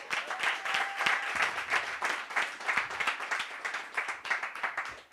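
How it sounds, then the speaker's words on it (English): Audience at a workshop giving a round of applause, a steady patter of many hands clapping at moderate distance, fairly soft and even, with a few faint voices underneath. "Give her a round of applause"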